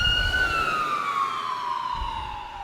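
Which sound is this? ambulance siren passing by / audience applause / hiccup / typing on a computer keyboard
ambulance siren passing by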